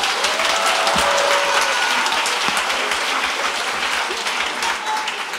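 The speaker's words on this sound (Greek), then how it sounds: "Και τώρα ένα χειροκρότημα" Steady, loud applause from an audience at a stage show, a thick continuous wash of many hands clapping throughout, with a faint voice briefly audible beneath.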